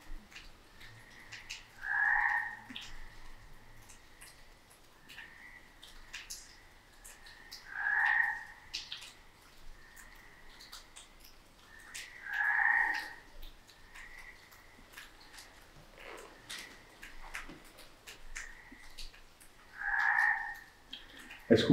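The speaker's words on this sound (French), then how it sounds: "le bruit des grenouilles" Frogs croak at night in four separate bursts a few seconds apart, each a short rasping call, moderately loud against a quiet background.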